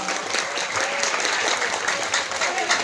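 Brief burst of clapping from an audience at a Quran school graduation ceremony, dense and sustained hand claps at moderate distance.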